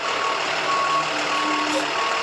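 Tow truck reversing beeps during a police-run operation removing abandoned vehicles from lawns in a residential neighborhood, a steady repeating electronic beep over constant engine and street noise, moderately near and continuing throughout.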